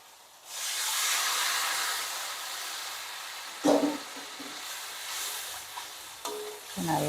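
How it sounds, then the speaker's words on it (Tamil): Tamarind water poured into a hot frying pan for fish kulambu bursts into a loud, steady sizzle and hiss, then fades as a spoon scrapes and stirs in short bursts. "இப்போ கரைச்சி வச்சுருக்கிற புளி தண்ணி அதில் சேர்த்துக்கலாம்."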